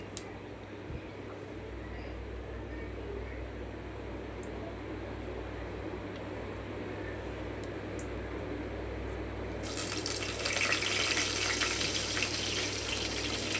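Fennel, cinnamon, dried chillies and curry leaves spluttering in hot oil for Chettinad chicken curry, a steady fine sizzle close by that grows louder and brighter near the end.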